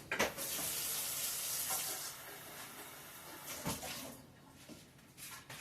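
Water pours steadily into a measuring cup in a soft hissing stream for a few seconds, then tapers off with a couple of light clinks, faint and close.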